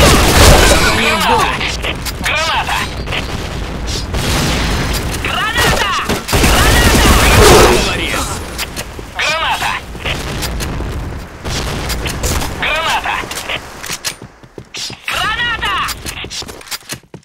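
Grenade blasts and bursts of gunfire from the Point Blank online shooter, heavy booms and rapid shots packed loudly together over most of the stretch, with in-game voices calling out between bursts.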